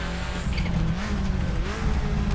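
A 1995 Subaru Impreza WRX STI in Assetto Corsa drives hard toward a hairpin, its engine droning loudly and steadily, with tires squealing as the pitch rises and falls.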